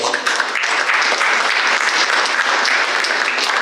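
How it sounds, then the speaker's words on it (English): Dense, steady applause from a large audience at a museum's annual meeting, many hands clapping at once without pause. "And yes, I heard some applause."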